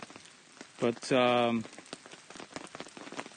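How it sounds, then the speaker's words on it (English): Steady rain patters outside a cabin throughout as a low, constant hiss, with a voice speaking loudly over part of it. "it's raining out. It's kind of a dreary day"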